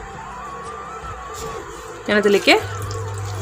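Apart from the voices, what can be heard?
pouring quarter glass of water into aviyal pan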